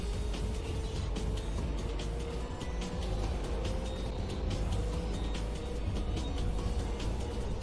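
A car engine in the Hot Wheels: World Race video game, a loud steady roar that holds without a break from start to finish, with no talk over it.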